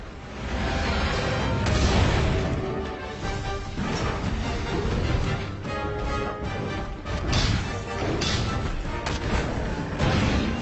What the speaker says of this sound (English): it's time for the hunter to unleash some payback with a powerful Wyvern ammo